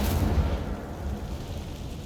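Incendio fire spell cast in Hogwarts Legacy, a loud, dense low rumbling burst at the start that rolls on as a sustained fiery roar through the whole stretch.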